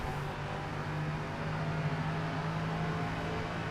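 LMP3 race car engine in rFactor 2 on the Daytona road course, a steady, droning engine hum holding an even pitch throughout with no talk over it.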